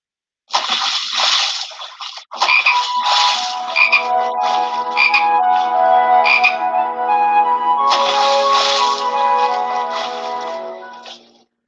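Frogs croak loudly and continuously in a close, dense chorus of layered calls that runs almost unbroken with only a brief pause, no voices heard.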